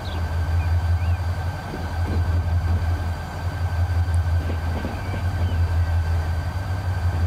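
A freight train in Transport Fever rumbles on a Toronto to Washington run, a steady deep low rolling drone with faint clanks, continuous and close throughout.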